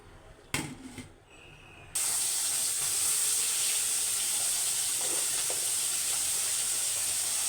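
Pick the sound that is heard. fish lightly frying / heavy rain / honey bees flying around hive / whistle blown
fish lightly frying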